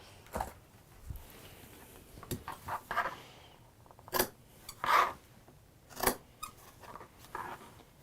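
Scissors cut out fabric pieces for a sewing project: a series of close, crisp snips and slides at an uneven pace, with faint handling noise between cuts.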